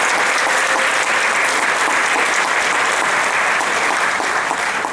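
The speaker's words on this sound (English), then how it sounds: "So give a big round of applause for everybody." An audience at a fall speech night gives sustained, dense applause, a steady wash of clapping heard alone without breaks.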